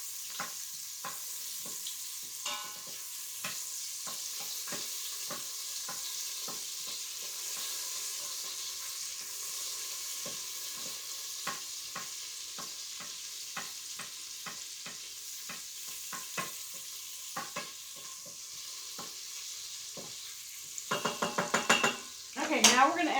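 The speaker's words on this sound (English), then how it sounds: "we're going to do a tablespoon of butter. Okay, we're going to let that melt and get nice and hot." A tablespoon of butter sizzling as it melts and heats in an Instant Pot, a steady hiss broken by scattered crackles, with a louder clatter of utensil against the pot at the end.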